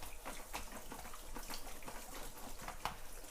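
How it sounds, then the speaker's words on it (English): Cold tap water rinses cooked spaghetti, a soft, steady splashing stream with small irregular spatters, faint and unaccompanied by talk. "I'm just washing a little cold water."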